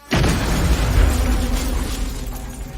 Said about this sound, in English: The bombs detonate upon opening